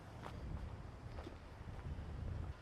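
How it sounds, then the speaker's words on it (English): Low rumbling gusts buffet the microphone continuously on a disc golf course, a dull, blustery roar with faint scattered knocks beneath; no voices. "the wind's definitely getting in here"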